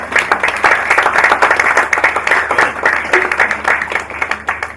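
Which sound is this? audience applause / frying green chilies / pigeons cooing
audience applause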